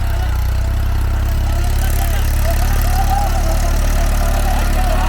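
An Eicher 333 or Sonalika 734 tractor engine pulls an 11-tine cultivator in a field demo, a loud, steady, low-pitched diesel rumble that continues without a break.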